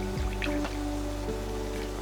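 Pickling brine splashes and trickles into a jar of spicy dill refrigerator pickles in short drips for about a second, then settles into a faint steady pour against low background hum.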